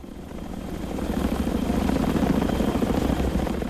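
Helicopters at the US embassy in Saigon during the evacuation, their engine and rotor noise a loud, steady drone that swells in the first second and then holds, with no voices over it.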